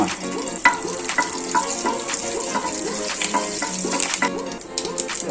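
Coriander dal and curry leaves tempering in hot sesame oil, giving a steady crackling sizzle with scattered small pops and light stirring clinks throughout.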